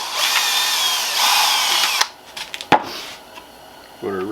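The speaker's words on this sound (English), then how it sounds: "And then we're gonna drill a hole." A power drill with a 1/8 inch bit whines loudly for about two seconds while boring a hole, then cuts off, leaving a few clicks and handling knocks in a quieter room before a voice begins speaking.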